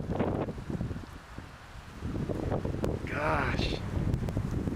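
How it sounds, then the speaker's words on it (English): Wind gusts across a Colorado wilderness hillside while backpacking in the Eagle Nest Wilderness, buffeting the microphone with low rumbling noise. People talk and exclaim over it. "it's a little windy here"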